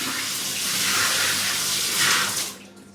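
Water runs from a tap into a sink to test its drain, a close, loud splashing rush that swells near the end, then cuts off abruptly.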